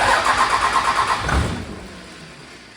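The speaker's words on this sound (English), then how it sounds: "the engine actually trying to start, I don't know how long it's gonna crank for" A Cummins 24-valve diesel engine cranks with a rapid rhythmic whir, catches with a brief rumble, then settles into a quieter idle after a head gasket replacement. No voices.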